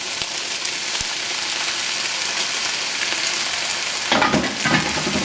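Beef and broccoli sear in a hot pan, giving a loud, dense, continuous sizzle that swells into a bolder burst of frying and stirring near the end, close up with no talking.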